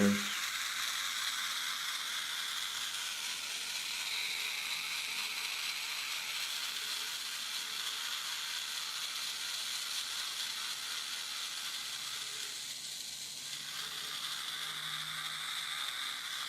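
A wind-up clockwork beetle toy with all-metal gears runs continuously, a faint, close, steady high whirring and buzzing of the mechanism lasting about sixteen seconds with slight changes midway.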